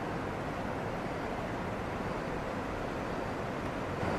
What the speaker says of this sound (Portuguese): isso aqui é uma correnteza muito forte